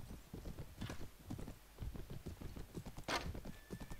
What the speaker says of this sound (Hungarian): Hú, de gyors ez a ló.